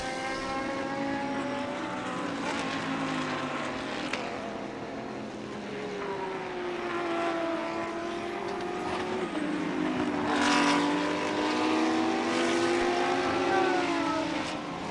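Race cars in a TSS 2018 touring car event sweep through a corner, loud engine notes rising and falling in overlapping passes as several cars follow one another.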